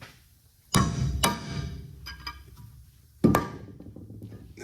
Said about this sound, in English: You gotta smack them in with a hammer.